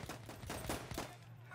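Faint rapid gunfire from the video game Battlefield 1 comes in several quick bursts of sharp cracks in the first second, then trails off into quieter background noise.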